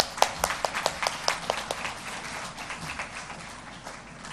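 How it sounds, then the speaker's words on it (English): Scattered audience clapping at an international conference on holistic health, sharp individual claps in an irregular patter that gradually softens and fades out. "Please keep applauding for her."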